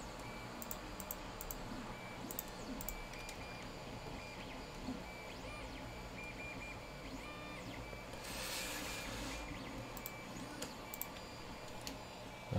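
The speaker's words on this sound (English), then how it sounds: "I heard that, printer." A 3D printer runs steadily throughout, a continuous mechanical whir with faint ticking stepper-motor tones and a brief louder stretch partway through, with no speech.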